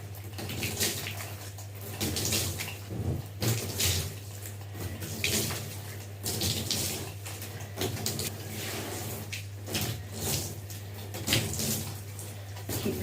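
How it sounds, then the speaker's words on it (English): Water running from a shower or tap while conditioner is rinsed out of hair, a steady splashing flow with a constant low hum underneath and shifting spatter as the water hits hair and hands. "Keep rinsing to make sure all that conditioner's out."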